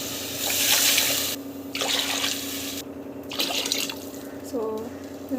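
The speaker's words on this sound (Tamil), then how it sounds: "2 டம்ளர் தண்ணி ஊற்றுறோம்." Two tumblers of water are poured into a cooking pot over sautéed ginger-garlic paste, coming in splashing bursts with drips and pauses while a person talks.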